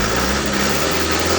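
A Hino 300 truck engine runs at a steady idle after repair of its power loss, hard starting and stalling, a loud, continuous, even drone with a low hum and no talk over it.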